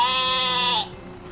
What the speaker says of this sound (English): Let's start with the first animal. Sheep.